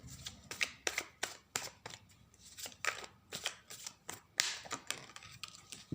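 Tarot cards being reshuffled, a run of quick, crisp riffling and snapping bursts, close and fairly quiet, repeating irregularly for several seconds.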